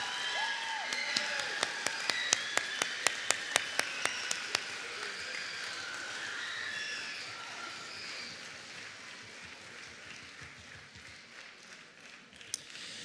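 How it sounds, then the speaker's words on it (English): Audience applause for students at a middle school and junior high spring concert, a dense round of clapping with a few sharp, close claps standing out early, slowly fading over about twelve seconds. "Give these students an outstanding round of applause."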